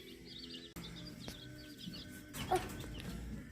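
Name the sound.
baby chicks chirping in brooder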